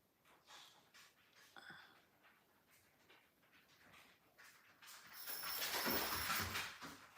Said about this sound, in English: That was my dog, by the way.